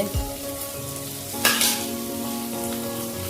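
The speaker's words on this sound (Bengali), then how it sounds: "লঙ্কা গুঁড়ো, ধনে গুঁড়ো আর জিরে গুঁড়ো। এটা একটু ভেজে নিচ্ছি, দেখুন।" Chili, coriander and cumin powders fry in a pan with a little water, giving a soft continuous sizzle close by with a brief brighter crackle midway, no voices.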